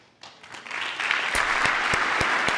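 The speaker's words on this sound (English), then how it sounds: "You can applaud that." An audience applauds during a presidential address to Congress. The clapping swells quickly from quiet into a dense, sustained roar of many hands, with a few louder claps standing out near the end.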